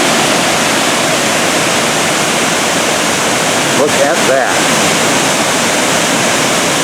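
Waterfalls in Umpqua National Forest roar close by in a dense, constant rush of water, with a brief splash and a short spoken remark near the middle.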